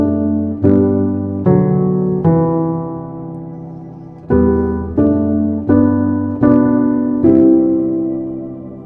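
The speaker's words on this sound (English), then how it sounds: "everything together sounds like this for the piano" Both hands of the Manger Throne piano part together, low bass notes under ringing right-hand chords, played in two matching phrases of sustained, decaying chords, close and alone.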